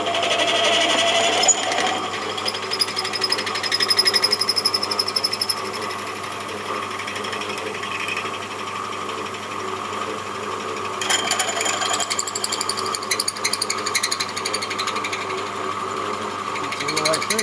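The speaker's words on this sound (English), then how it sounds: "run it straight through, and that should hopefully clean up any imperfections on the inside" A lathe bores through a tube, fed slowly by the tailstock hand wheel, giving a continuous, close, chattering mechanical whir with rising and falling cutting noise, and a voice speaks over it.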